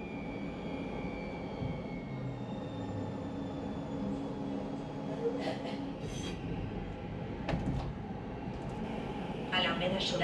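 A CAF tram train on the TramBahía line runs through the streets of Chiclana de la Frontera, a steady rumble of wheels on track with faint squeals and brief higher metallic bursts, continuous throughout under occasional distant background noise.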